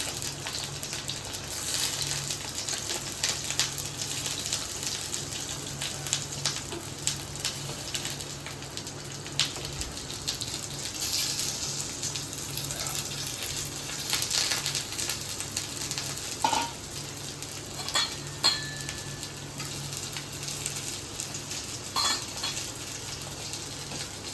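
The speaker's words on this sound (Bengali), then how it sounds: "পটলগুলো একটু ভেজে নেব ভালো করে, কারণ পটলটা না ভাজলে পরে খেতে ভালো লাগে না।" Pointed gourd (potol) slices frying in oil in a pan while being stirred, a steady broadband sizzle with scattered scraping and clinking from the spatula, close and continuous with no talking.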